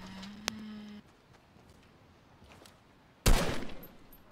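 Fortnite video game gunfire: a sharp single shot early on, then a loud burst of rapid shots near the end that tails off, heard faintly over a quiet background with no talking.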